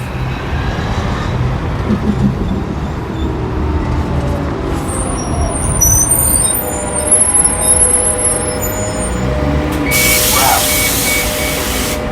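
A mostly empty city bus in California pulls away from a red light, a steady low diesel rumble with brief high hissing and squeaks, heard amid continuous street traffic noise.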